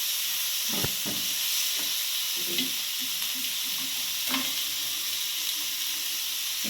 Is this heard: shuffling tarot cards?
no